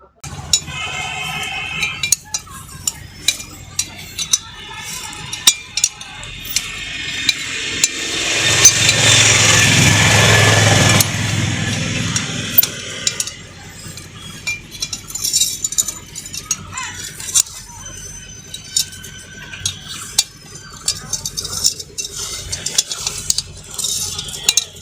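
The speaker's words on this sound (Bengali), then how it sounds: "এইবার যে ছোট সাইলেন্সার লাগানো আছে সেই 3টে বোল্ট আমরা খুলছি।" Three bolts come off the small silencer on a Tata 1109 turbo, heard as repeated metallic clinks, scrapes and tool taps at close range, with a louder rushing stretch partway through.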